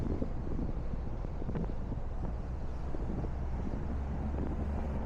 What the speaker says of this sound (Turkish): bugün inanılmaz bir rüzgar vardı